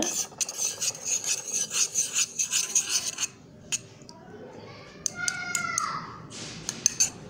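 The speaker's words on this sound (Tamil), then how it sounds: "இப்போ இதை நல்லா மிக்ஸ் பண்ணிக்கோங்க." Aloe vera hair conditioner being stirred in a bowl at home, giving steady scraping, rasping strokes of a spoon in a repeated rhythm, close and fairly loud, followed by softer stirring with a few sharp clinks.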